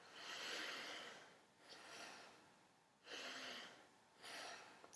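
Three or four slow, deep breaths, each a long airy inhale or exhale of about a second, separated by short pauses; quiet, close, and with no talking.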